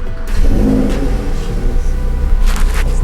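A Porsche 911 Carrera 2S engine revs up close by, a rising mid-range rumble with a brief second surge near the end, heard alone without talk.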